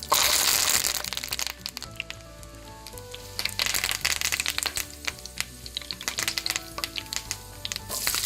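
Curry leaves fry in hot ghee in a wok, giving a loud, dense crackling sizzle with sharp pops that runs throughout and stays up close. Faint music plays underneath.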